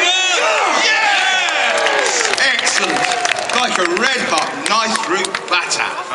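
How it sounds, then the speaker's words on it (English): A crowd at the Warwick Castle knights show cheers, whoops and shouts continuously, loud and close, with many overlapping voices and some clapping. "Let's cheer Jay on."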